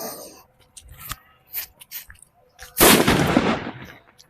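A Hydrogen Green Bomb firecracker bursts during Diwali fireworks: a few small crackles and pops, then one loud, sharp blast that rolls out into a long, fading roar.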